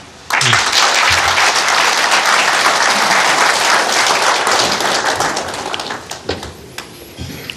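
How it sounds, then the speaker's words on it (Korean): A crowd applauds steadily for several seconds at a televised Korean presidential election debate, dense clapping that tapers off toward the end. "박수로 맞아주십시오"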